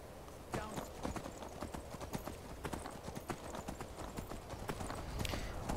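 Horse hooves clip-clop in the fantasy role-playing game Skyrim, a steady, rapid run of hollow clops under a dense wash of game ambience, continuing at an even pace throughout.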